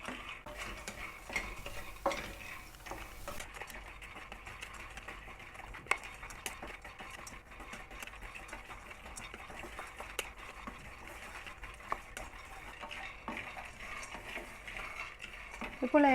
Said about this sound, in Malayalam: അതുകൊണ്ട് മീഡിയം ഫ്ലെയിമിലിട്ട് നമ്മൾക്കിതൊന്ന് മെല്ലെ വറുത്തെടുക്കാം. അതൊന്ന് നിർത്താതെ ഒന്ന് ഇളക്കി കൊടുത്താൽ മതി.